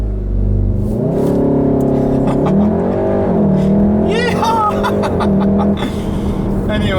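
The engine of a 2016 VW Mk7 Golf R with a DSG gearbox revs up to about 3000 RPM and holds there. The note is loud, close and rising, and people talk and chuckle over it.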